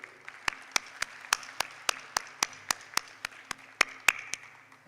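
Applause from an audience at a Diamond Jubilee celebration, heard as a sparse, steady run of evenly spaced claps over a faint room hum.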